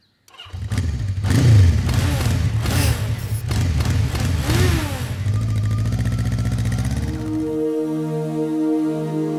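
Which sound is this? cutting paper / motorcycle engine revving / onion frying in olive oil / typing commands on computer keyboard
motorcycle engine revving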